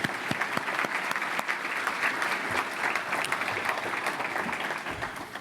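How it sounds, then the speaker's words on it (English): Luncheon audience at a Covington Business Council event applauds board members and elected leaders, a steady dense round of clapping that holds at an even level throughout, with no talk over it. "Let's give them a round of applause along with our elected leaders."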